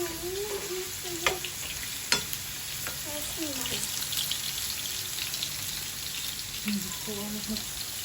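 Potatoes and eggplant fry in a pan of oil with a steady soft sizzle, broken by a few sharp utensil clicks and scrapes while someone talks quietly nearby.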